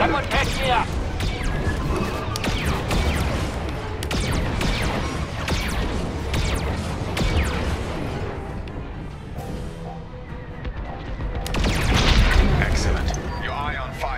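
Ion cannon fire from Star Wars Squadrons starfighters, repeated loud blasts and crashing bursts across a busy battle soundscape, with voices talking over much of it.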